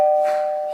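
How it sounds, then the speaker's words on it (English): A single bell note rings out clearly for a dog conditioning experiment, a pure sustained tone that strikes sharply and then slowly fades with no other sounds around it. "now what we're going to do is sound the bell."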